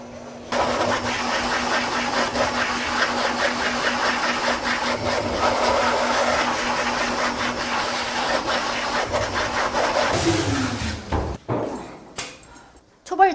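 A pet blow dryer at a 24-hour self-service dog wash runs with a loud, steady roar for about ten seconds, then winds down and stops. Faint handling noises follow.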